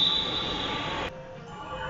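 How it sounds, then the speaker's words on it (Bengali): A Dhaka metro rail train arriving at the station: a loud, steady rumble with a high metallic wheel squeal that suddenly cuts off about halfway, leaving a quieter hum. "কথা বলতে বলতে একটি অপরদের সাথে মেট্রো চলে আসলো।"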